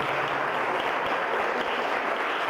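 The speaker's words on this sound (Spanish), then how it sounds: "Un aplauso." Steady applause from an audience at a lecture, fairly quiet and even, running without a break.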